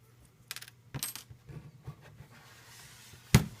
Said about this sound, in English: I'm going to eject the SIM card, the Verizon SIM card from here.